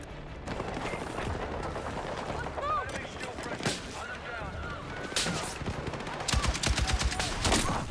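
An M60 machine gun fires in a multiplayer shooter game, with repeated bursts and shots loud across the whole stretch, the heaviest rapid fire near the end, mixed under a player talking.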